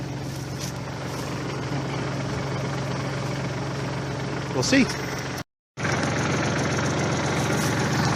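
A Massey Ferguson 1433 4x4 compact tractor idling nearby with a steady, rumbling engine hum; someone speaks briefly over it, and the sound cuts out for a moment before resuming.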